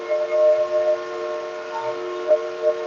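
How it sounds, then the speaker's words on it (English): Train passing at Dollywood theme park during a Smoky Mountain Christmas event, a sustained steady whistle-like tone holding over rumbling background, with a couple of brief louder accents near the end. "We get it. There's a train here."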